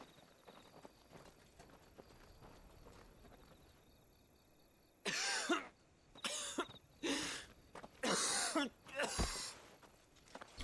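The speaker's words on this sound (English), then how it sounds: "he always did have a cough." A character in Final Fantasy XVI coughs in a run of several harsh, raspy fits, fairly close, following quiet footsteps and low background ambience with no talk over it.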